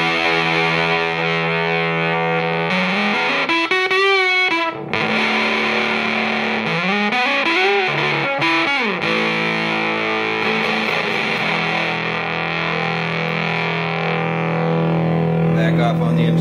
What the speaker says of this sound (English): So this fuzz is a two-knob germanium fuzz with level and intensity.